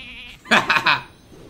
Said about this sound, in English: Oh, the sheep has reborn.